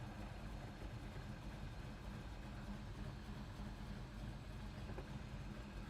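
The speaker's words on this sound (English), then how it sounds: "You can see we're idling nicely." A 1967 Chevrolet Chevelle SS engine idles, a steady low rumble that holds evenly throughout, close by and with no revving.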